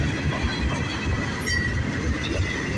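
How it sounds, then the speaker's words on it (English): A long Buffalo and Pittsburgh freight train with black tanker cars rolls past close by, a steady loud rumble of wheels with faint squealing and clatter. "And there goes the end of the train."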